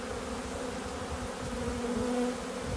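Honey bees from a three-pound package buzz steadily and close during installation into a nuc, a dense continuous drone with a faint rising whine near the end.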